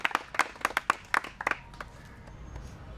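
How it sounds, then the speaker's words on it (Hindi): A handful of people at a gymnastics training centre clap in short, uneven bursts to cheer on the gymnasts, sharp and close, then fade out into a quiet room. "थोड़ा ताली बजाइए सब लोग"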